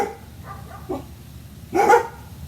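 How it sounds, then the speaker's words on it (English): A dog gives a couple of sharp barks, a short one and then a louder one, against quiet room noise. "don't want to record while they're barking,"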